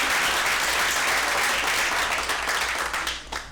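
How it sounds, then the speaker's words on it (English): Audience at a real estate sales meeting gives a short, loud round of applause, dense close clapping that tapers off toward the end. "give her another round of applause"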